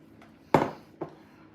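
Chopped hard-boiled eggs are added to cut-up potatoes in a bowl, giving two soft clinks of a utensil against the dish, one louder then a fainter one, in a quiet kitchen.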